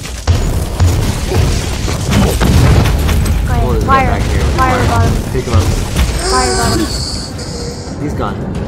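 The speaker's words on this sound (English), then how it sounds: "Fire bomb." A fire bomb bursts in Warhammer 40,000: Inquisitor – Martyr, a loud booming blast followed by crackling combat effects and chimes, while players talk over the action.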